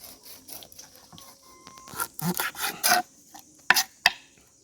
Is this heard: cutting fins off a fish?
yes